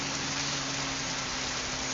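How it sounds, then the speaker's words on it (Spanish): Steady rain pours on a cold day in Curitiba, Brazil, a dense continuous hiss with no breaks or talking. "empezó a llover"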